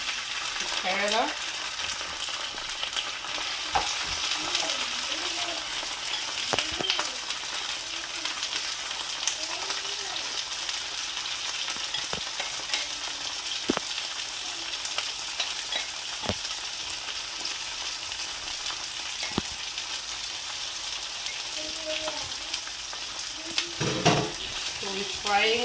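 Cicadas fry with onion in hot oil in a pan, giving a steady close sizzle punctuated by occasional stirring knocks and scrapes, with faint voice murmurs now and then.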